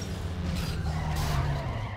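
A car skids and crashes in the racing video game Need for Speed Underground 2, with a loud, close, continuous rush of tire and engine noise that holds steady for about two seconds, with no talking.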